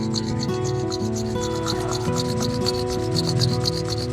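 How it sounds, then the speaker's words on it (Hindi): Palms rubbed briskly together during a pranayama breathing class, a steady close swishing friction that continues without pause, with a faint musical tone held underneath. "दोनों हथेलियों को आपस में रब करेंगे। अच्छे से रब करें।"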